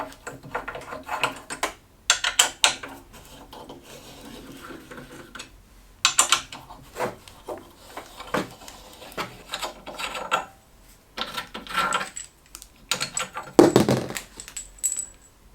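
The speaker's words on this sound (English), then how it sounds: "I'm going to start by loosening these three screws and removing them." Bolts being unscrewed and pulled from an Echelon Connect exercise bike frame, with irregular metallic clicks, ratcheting and clinks of small hardware coming and going close by.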